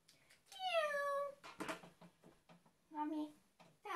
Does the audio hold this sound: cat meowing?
yes